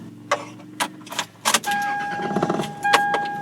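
Keys jangle in several brief metallic bursts, then a car engine starts and idles steadily underneath, with a few more jingles near the end and no talk.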